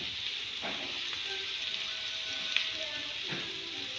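Empanada filling browns in a pan with a soft, steady sizzle and hiss, faint and close, broken by a few light clinks and stirring touches, with no talk.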